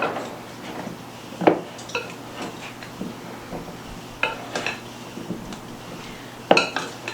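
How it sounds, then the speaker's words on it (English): A spoon scrapes and knocks against a dish of seasoned Yukon Gold potatoes, giving scattered close clinks and scrapes at an uneven pace, fairly quiet against a low steady hum. "now I'm just going to stir this up and see if I have enough on here"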